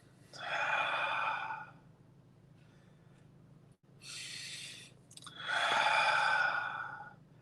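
Deep, audible breaths during a meditation exercise, long airy exhales and inhales in slow succession, close and isolated in a quiet space.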